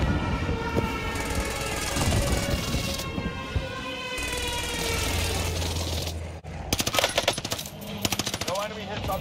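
A Call of Duty Warzone airstrike run: dense rapid explosive bursts and rumbling impacts over a loud, busy game mix, ending in a string of sharp staccato blasts.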